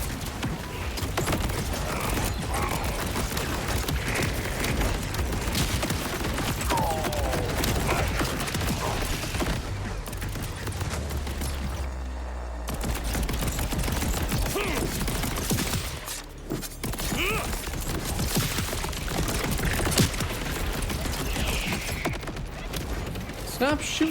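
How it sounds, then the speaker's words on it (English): Rapid gunfire in the looter-shooter Borderlands 4 on Hard difficulty, dense bursts of shots and mechanical clatter running nearly nonstop, with game music and effects layered over it and a brief lull midway. "Stop shooting everything, you're aggroing the whole place"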